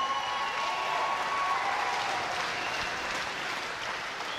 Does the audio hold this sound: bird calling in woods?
no